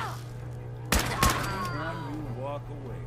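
Rifle gunfire in the video game Fallout 4, two sharp close shots in quick succession followed by ringing, echoing decay, with a voice speaking over the game sounds.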